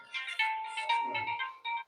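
A mobile phone ringtone plays an electronic melody of repeated tonal notes in a steady pattern, fairly faint and alone, during a live class held indoors.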